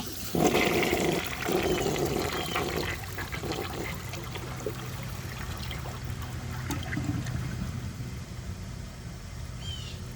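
A 1984 American Standard Cadet toilet flushes loudly up close, a strong rushing surge that settles into a long, steady gurgle and trickle as the tank refills.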